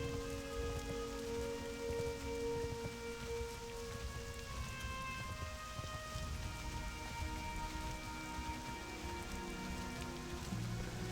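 Steady rain falls in the Hillsbrad Foothills of World of Warcraft Classic, a continuous close hiss of drops on surfaces that lasts throughout, with a quiet tonal music bed underneath and no talking.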